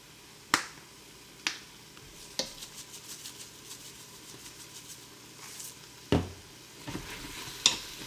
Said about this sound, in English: you just want to keep mixing and mashing as we're going